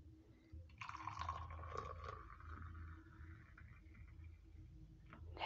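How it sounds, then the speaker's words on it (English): Hot boiled water is poured into a cup with coffee and lemon, a faint, steady trickling stream lasting several seconds in a quiet room. "And then we pour hot water, this is boiled water"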